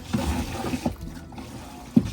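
A marine toilet (head) is flushed aboard a sailboat: a low, watery gurgle runs throughout, with a few soft knocks spaced irregularly across about two seconds, moderately quiet and close.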